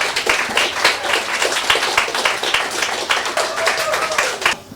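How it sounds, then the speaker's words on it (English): A Perth poetry club open-mic crowd applauds, with dense, steady clapping of many hands that runs loud for several seconds and then stops abruptly. "Lots of claps until she gets to the stage, people."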